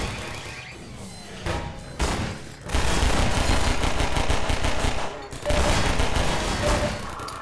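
Heavy bursts of gunfire in the video game Half-Life 2, sustained rattling volleys broken by short pauses, loud and dense with thumping impacts throughout.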